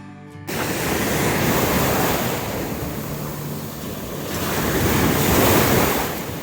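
Black Sea waves break and wash steadily on a crowded Odesa beach, a broad continuous roar that swells and eases, with some wind buffeting the microphone.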